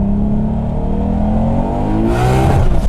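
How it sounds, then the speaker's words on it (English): A Nissan R32 GT-R with a large turbo revving up close, its engine pitch climbing steadily before bouncing hard against the rev limiter near the end, loud and alone without talk. "That's rev limiter."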